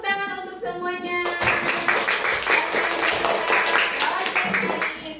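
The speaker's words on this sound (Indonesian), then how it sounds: "Tepuk tangan untuk semuanya." After a short spoken phrase, a group breaks into brisk clapping during a school religious lesson, the dense claps continuing steadily for several seconds nearby before tapering off.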